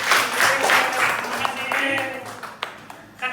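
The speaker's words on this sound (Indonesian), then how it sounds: "Tepuk tangan untuk Belia." A primary classroom claps for a student, a short burst of dense applause that thins into a few scattered claps with some talking.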